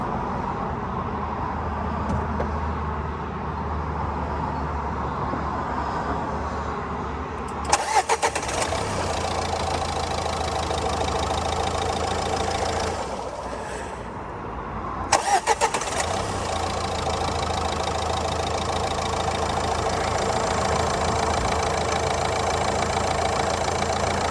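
A car engine cranks and catches, then settles into a steady idle; it is switched off and restarted partway through, with no talk.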